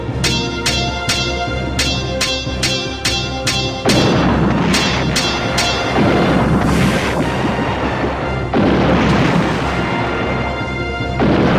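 Repeated cannon fire from a naval battle in the ship-trading video game Uncharted Waters IV (Daikoukai Jidai IV): a rapid run of sharp, evenly spaced booms, then heavier, denser blasts and rumbling impacts, loud and close with no talking.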